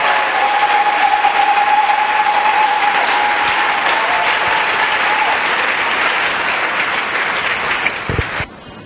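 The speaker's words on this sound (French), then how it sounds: "Let's clap for Jesus Christ." A church congregation clapping for Jesus, loud sustained applause from a large crowd that cuts off abruptly near the end.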